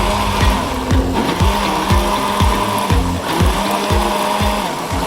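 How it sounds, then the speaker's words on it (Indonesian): An electric blender grinds cooking ingredients, running loud and close with a rhythmic chopping pulse repeating roughly twice a second. "Kalau kita terlalu banyak naruh air di blender itu nanti tingkat kehalusannya akan berkurang"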